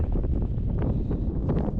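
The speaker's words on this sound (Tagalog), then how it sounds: "lakas talaga ng hangin guys" Strong wind buffets the microphone with a steady, loud rumbling roar and gusty rustling throughout, with no other sounds standing out.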